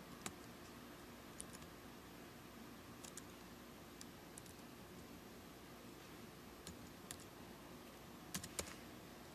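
Faint, sparse key presses on a computer keyboard as a WEP password is typed in, scattered soft clicks over a steady background hiss with no one talking.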